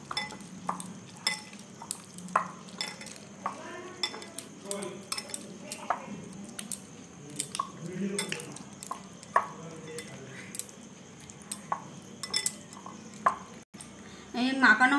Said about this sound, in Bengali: কাসুন্দি একটু দিয়ে দিয়েছি, দিয়ে আরেকবার হাত দিয়ে এবার মাখিয়ে নাও আরেকবার ভালো করে।